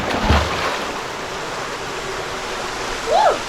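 Morang waterfall pouring into a clear pool, a steady, close rushing roar of falling water throughout, with a brief higher chirp near the end.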